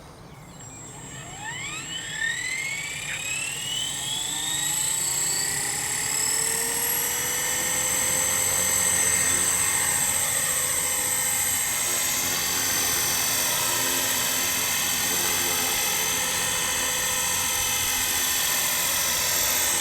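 A small radio-controlled model helicopter built from a Microheli kit spools up with a rising high-pitched whine, then hovers steadily with a loud, constant buzzing rotor and motor tone, close by.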